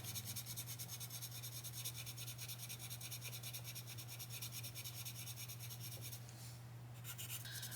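A Lyra colored pencil scratches across paper while blending, producing faint, continuous dry rubbing strokes with a soft rasping texture, close up with no talk.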